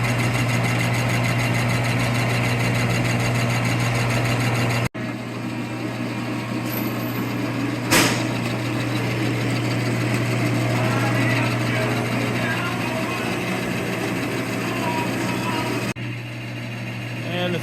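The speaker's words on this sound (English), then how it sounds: "A little surfacing on the lathe going on." A lathe surfacing a 4L80E transmission pump in a shop, a steady loud machine hum with a constant drone and a few sharp clicks over the run.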